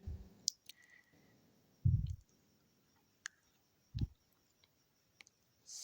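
Computer mouse clicks at a desk, a handful of sharp isolated clicks spaced irregularly, close and fairly quiet, with soft thumps between them and no talking.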